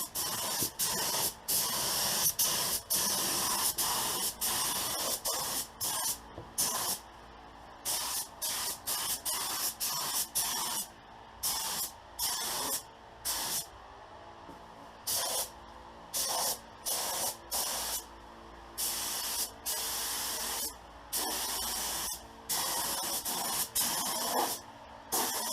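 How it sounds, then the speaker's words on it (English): Spray gun coating the outside of a car with base coat at home, loud hissing bursts that start and stop in short repeated passes, alone without talk. "that way I can spray the entire car on the outside"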